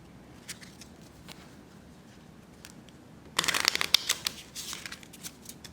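A deck of playing cards is shuffled near the mic during a card reading, a quick riffling burst followed by softer rustling and taps after a quiet stretch of faint handling.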